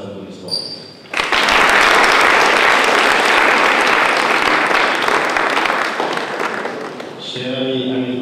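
A crowd at a solemn opening ceremony of the JCI U-Cesag chapter in Senegal bursts into loud, sustained applause lasting about six seconds, with brief speech just before and after.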